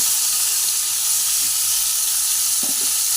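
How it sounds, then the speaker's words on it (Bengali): Cauliflower florets frying in a pan for a koi fish curry with potato, giving a steady, loud, continuous sizzle and hiss with a few faint stirring knocks, no talk. "ফুলকপিগুলো একটু ভেজে নেব।"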